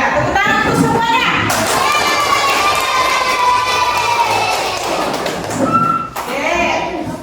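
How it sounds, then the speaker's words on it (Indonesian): A primary school class applauding and cheering together after group discussion results, loud continuous clapping mixed with children's shouts and excited voices, close and filling the room. "tepuk tangan untuk semuanya"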